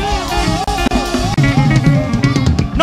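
A church congregation at a praise service cheers and shouts loudly over musical backing. The noise is dense and continuous, with voices rising and falling throughout.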